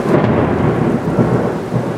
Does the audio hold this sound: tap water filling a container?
no